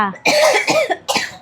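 Several close coughs in quick succession, a short burst of two or three hacking coughs followed by one more after a brief pause.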